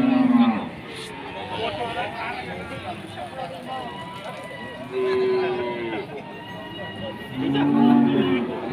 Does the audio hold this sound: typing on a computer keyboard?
no